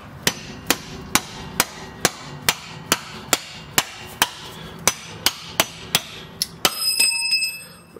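Steady hammer taps ring out on a bolt being driven through the rear control arm of a 2005-2010 Jeep Grand Cherokee, about fourteen sharp metallic strikes at an even pace, close up, ending in a brief clatter with no talk.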